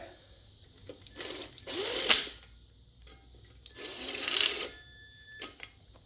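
A wrench tightens the retainer bolts on an NV3500 transmission case during a rebuild, two close bursts of rapid ratcheting clicks separated by a quiet pause, with no talking.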